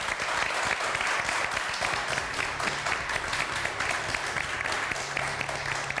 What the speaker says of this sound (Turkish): Bir alkışla.